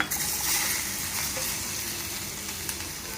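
Tempering for masoor dal crackles and spits in hot oil, a dense close sizzle with sharp pops and a few light metallic clinks, continuous for a few seconds with no talking.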